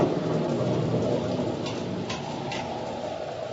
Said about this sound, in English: The rain was blinding when one couldn't tell where it ended and the ocean began.